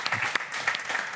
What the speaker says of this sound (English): I think we can give it a round of applause